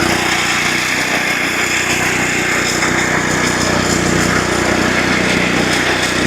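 A mower cuts a home putting green down to 1.7 mm, a steady, loud engine drone with a high whine that runs unbroken throughout, no voices.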